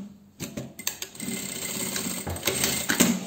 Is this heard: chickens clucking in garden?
no